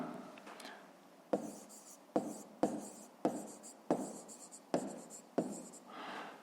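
A pen writes on notebook paper in a regular series of short, close strokes, each starting with a sharp tap and trailing into a scratchy rub, about once a second.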